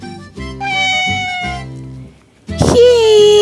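A storyteller's voice imitates a cat meowing in a children's tale, loud and close: drawn-out tonal cries, then a brief pause and a sharp, bright meow that slides downward.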